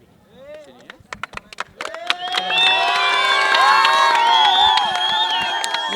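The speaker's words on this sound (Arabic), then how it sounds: "جاك تشجيع من الجمهور" Studio audience at an Arabic quiz show breaks into loud cheering and shouting, building after scattered claps and claps into a sustained, dense roar of voices.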